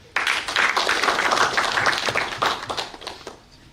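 An audience at a ceremony installing a governor as patron breaks into applause, a dense, close burst of clapping that holds steady for about three seconds before tapering off.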